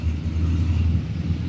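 A jeepney engine revs hard on a busy road in the morning sun, a loud, close, continuous low rumble with a rising throaty growl and no voices over it.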